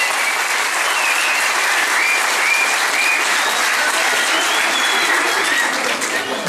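A crowd at a political rally in Zonguldak claps loudly and without a break, a dense, even wall of applause with no voice standing out.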